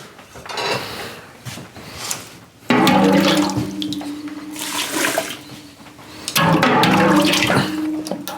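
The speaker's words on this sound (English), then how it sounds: "I am gonna put a scoop of water in it." Scoops of water poured into a bourbon grain mash made with double oak roasted grain, giving two loud splashing, gurgling bursts with quieter stirring and handling noise between them, close by and with no talking.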